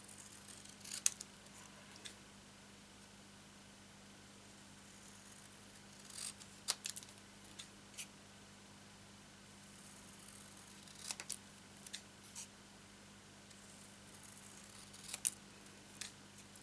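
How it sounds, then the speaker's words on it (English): Scissors snip through card along pencil-drawn lines during papercraft box making, faint scattered clicks and short cutting strokes over a quiet low hum, close by with long gaps between cuts. "Now I'm cutting this just inside the pencil lines."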